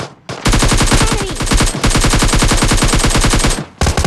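Sustained automatic gunfire in the mobile battle-royale game PUBG Mobile Lite, a loud, rapid, evenly spaced burst of shots running nearly four seconds with brief gaps at the start and end.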